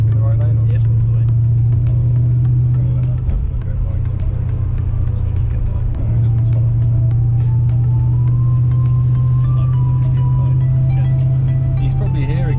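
BMW E39 M5 engine drones steadily from inside the car while driving, a loud, low sustained hum that dips briefly before returning, with people talking over it.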